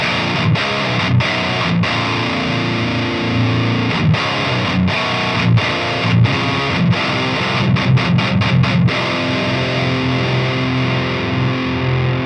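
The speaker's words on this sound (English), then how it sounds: "That sounds like a boosted amp to me for a great rhythm tone." Heavily distorted electric guitar through a boosted KSR high-gain amp chugging a metal rhythm riff, thick and saturated, with short palm-muted stops and sharp breaks throughout.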